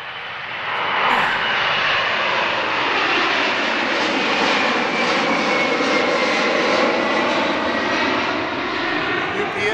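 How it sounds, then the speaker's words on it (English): A UPS cargo airplane passes over an airport with a loud, sustained engine roar that stays strong for the full stretch. No voices can be heard, only the steady wash of jet noise. "Here comes another plane."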